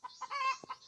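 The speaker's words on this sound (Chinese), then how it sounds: "刚刚还看到一个小鸡，好像吓到它了。" A chick clucking out in the hills during a dry-season mushroom hunt: a few short, close, high clucks and peeps within a second, with no talk.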